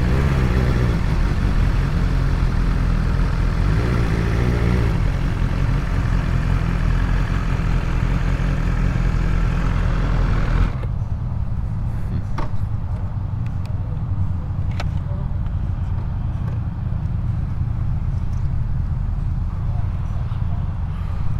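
BMW S1000XR motorcycle with an inline-four engine runs with a steady loud buzzing drone, then drops to a lower rumbling idle about halfway through, heard close with wind noise.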